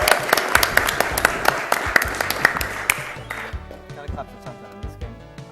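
A speedrun marathon audience claps enthusiastically, loud at first and thinning out, over background Pocket Monsters II game music and sounds.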